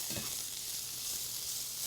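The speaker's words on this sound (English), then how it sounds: "So you're cooking them, sauteing them very lightly." Oyster mushrooms sauté lightly in a pan, giving a continuous soft sizzle at an even level with one faint scrape near the start.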